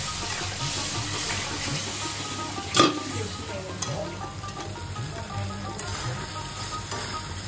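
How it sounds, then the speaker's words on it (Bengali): Spice paste with salt and a splash of water being sautéed in a pan for a vegetarian jackfruit curry, with a soft steady sizzle and scraping stirs, plus one sharper clink partway through. "মশলাটা ভালো করে কষিয়ে নিচ্ছি।"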